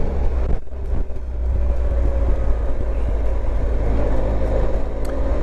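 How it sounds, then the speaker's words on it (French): A 2014 Triumph Tiger 1200 XC three-cylinder engine through an Arrow exhaust, a steady loud rumbling drone heard while riding, with wind roar over it and a faint pop or two, no talk. "on a un échappement Arrow qui distille un son du 3 cylindres qui est très sympa"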